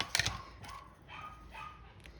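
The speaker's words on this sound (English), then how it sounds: "It's the neighbour walking their dogs." Dogs being walked past outside by a neighbour bark and yip several times, a sharp close yelp first and then softer, more distant barks spaced over a couple of seconds, with no voices.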